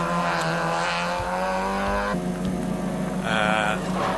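Race cars in a car race roar past with strong engine tones, the pitch dropping midway as they brake and downshift, in a loud, continuous sweep.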